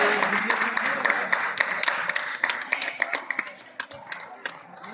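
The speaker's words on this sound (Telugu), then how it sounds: "అట్లీస్ట్ కూర్చున్న వాళ్ళు చప్పట్లు కొట్టండి, చప్పట్లు చప్పట్లు." Audience applause at a Kuchipudi dance event, moderately close, with clapping that fades out over a few seconds while voices speak over it.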